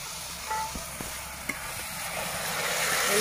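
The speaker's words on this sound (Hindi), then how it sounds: "मसाले पत्ते के 5 मिनट भूनेंगे।" Masala spices with bay leaves roasting in a pan for a chole lunch, cooked outdoors in a village on a hot day: a steady, soft sizzling hiss that swells toward the end, with a few faint stirring clicks.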